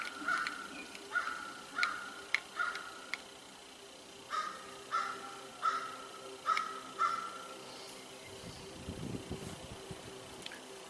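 Crows caw in a rhythmic series of loud, evenly spaced calls outdoors near a yard, with a low rumble creeping in near the end.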